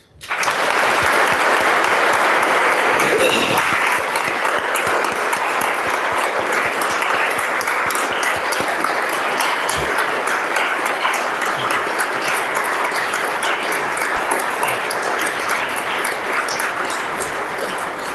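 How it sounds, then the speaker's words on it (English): Sustained applause from a legislative assembly during a state-of-the-guard address honoring deployed soldiers and airmen, dense even clapping that holds loud for the full stretch without talk. "I'd like to at least recognize her dedication and the dedication of all of our soldiers and airmen currently deployed with a round of applause"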